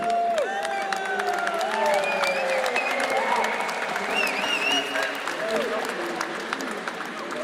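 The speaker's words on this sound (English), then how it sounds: "So let's have another round of applause," An esports grand final crowd at Gamescom applauds a team with sustained clapping and cheering, and whoops and shouts rise above the steady wash of hands.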